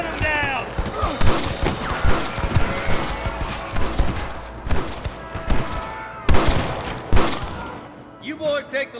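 Bursts of gunfire ring out during a shootout with rustlers in the video game Red Dead Redemption, with shots scattered through the clip and voices shouting over the fighting.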